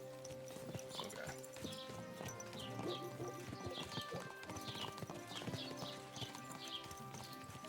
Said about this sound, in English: like my horse is automatically following him